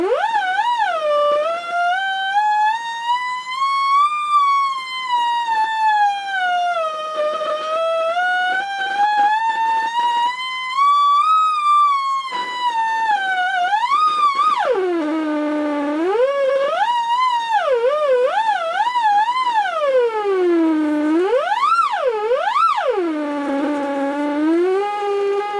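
A theremin played through an audio low pass filter gives a continuous, loud, siren-like tone that glides slowly up and down, then swoops in faster, wider wails toward the end, close and without any talking.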